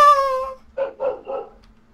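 In the Minecraft video game, a dog barks three times in a short series of yaps, close and clear, after a fading tonal sound at the start.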